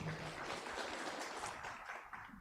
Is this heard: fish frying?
no